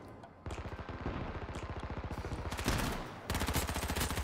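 Rapid automatic submachine gun fire in the H1Z1 video game comes in several long bursts of evenly spaced shots, loud and close, with short pauses between them.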